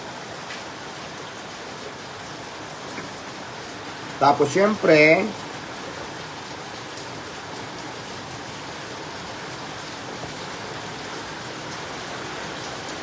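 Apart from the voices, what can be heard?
heavy rain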